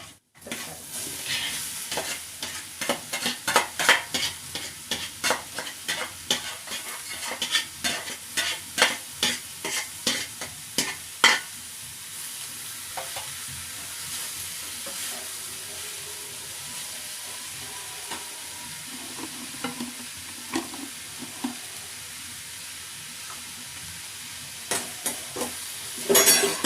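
Vegetables and grated coconut sizzle and fry in a pan for a village-style heerekayi (ridge gourd) upsaru, with repeated scraping stirs at first, then steady frying hiss and a few later clatters.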